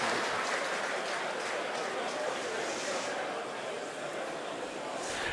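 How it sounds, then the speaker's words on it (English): SpaceX team cheering after a Falcon 9 launch, heard as a steady wash of distant crowd cheering and applause mixed with a broadband hiss throughout, fairly faint and continuous. "You may have heard the SpaceX team cheering in the background."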